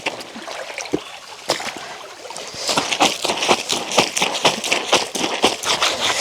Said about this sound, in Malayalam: ഇപ്പോൾ തോട്ടിൽ വെള്ളമായിട്ടുണ്ട്